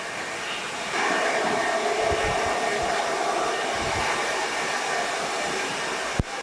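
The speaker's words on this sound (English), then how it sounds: "You can even put the hairdryer underneath, the head down, underneath like that" A hair dryer blows steadily and loudly, a constant airy whoosh with faint handling bumps, ending with a sharp click as it shuts off.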